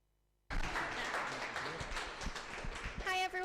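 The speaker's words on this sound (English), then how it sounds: "lots of claps" Audience applause for a moderator at a live in-person Sheffield digital marketing meetup: a room of clapping starts abruptly and holds steady for about three seconds, with a voice rising briefly near the end.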